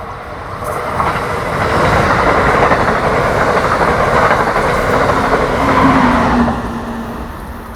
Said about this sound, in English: Train 666 slows for the curve with the same train set from this morning's 611